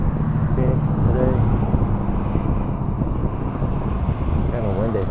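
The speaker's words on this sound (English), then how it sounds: "Kind of windy." Strong wind blows outdoors beside a house in Phoenix on a gusty day, a loud, steady rumbling buffet across the microphone throughout, with faint indistinct sounds beneath.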